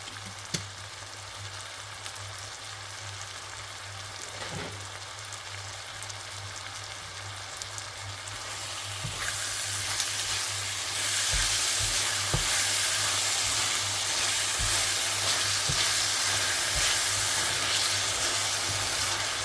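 Ground beef mince sizzles and crackles in a pan as tomato puree is stirred in, a steady frying hiss that grows louder and denser about halfway through, with occasional soft clicks and no voices.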